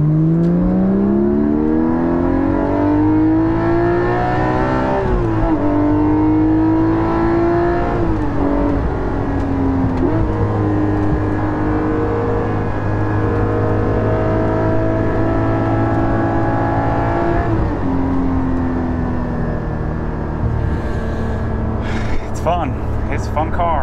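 A Porsche 718 GT4 fitted with a Soul Performance rear exhaust section pulls hard through a Sunday-afternoon drive around the block, its engine note climbing and shifting in loud, sustained revs from inside the car.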